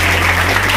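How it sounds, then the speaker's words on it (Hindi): Applause from a school audience at a government inter college's Gandhi Jayanti program follows a student performance, a brief, steady wash of clapping with a faint electrical hum beneath. "शानदार परफॉर्मेंस के लिए जोरदार तालियां तो होना चाहिए।"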